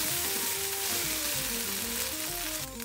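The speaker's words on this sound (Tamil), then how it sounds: "நடுவில் நீங்கள் கிளறி விட்டுட்டேன்னா வெண்டைக்காய் கறி சூப்பராக ரெடி ஆகிடும்" Okra curry sizzles in a pan as it is stirred, a continuous frying hiss partly masked by melodic background music.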